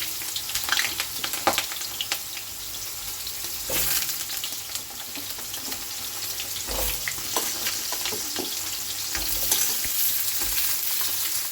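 Papaya and potato pieces fry in hot oil tempered with black cumin seeds, giving a steady close sizzle broken by occasional stirring scrapes and clatters.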